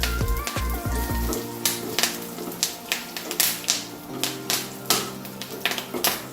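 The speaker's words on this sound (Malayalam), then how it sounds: "ഇതിലേക്ക് 2 വറ്റൽമുളക് പൊട്ടിച്ചതും കുറച്ച് കറിവേപ്പിലയും കൂടി ഇട്ട് കൊടുക്കുന്നുണ്ട്." Broken dried red chillies and curry leaves sizzle in hot oil for a raw mango curry, with a burst of crackling followed by a string of sharp pops and spits at irregular intervals.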